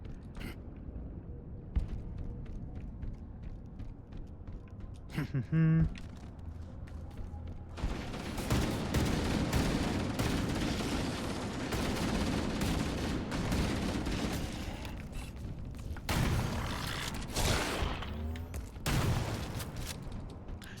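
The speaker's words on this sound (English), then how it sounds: "The shotgun does feel nice and beefy, at least when you do get it up close." Halo Campaign Evolved combat against the Flood, with repeated heavy shotgun blasts and gunfire bursts mixed with game effects and explosions across a dense, continuous battle soundscape.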